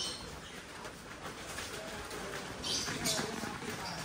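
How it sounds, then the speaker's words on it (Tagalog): Lovebirds in an aviary chirping and chattering in the morning, a busy layer of small bird calls at moderate distance, with soft talk in the background. "Kaya sa umagang ingay-ingay dito eh. Puro lovebirds."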